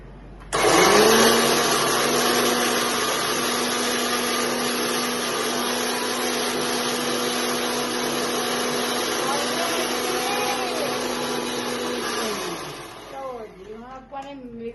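A mixer grinder blending watermelon and milk whirs loudly and steadily for about twelve seconds, then winds down, its motor pitch dropping as it stops.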